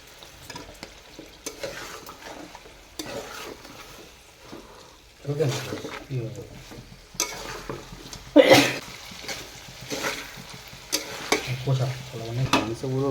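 Quartered medium potatoes being stirred into chicken curry frying in a pot, with scraping spoon strokes and bursts of sizzle over a steady low cooking hiss, occasional louder knocks against the pan.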